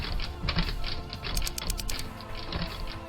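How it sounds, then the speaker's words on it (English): Rapid typing on a phone in the Steins;Gate video game, a steady run of light clicks and taps mixed with a background music bed, no voices. "I put my phone down and resume typing into Moeka's phone."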